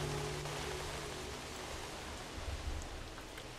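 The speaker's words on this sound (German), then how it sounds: "Oh, es regnet wieder." Steady rainfall in the video game Jurassic World Evolution, a dense, even hiss of rain on surfaces that fills the whole stretch at low volume, with no talking.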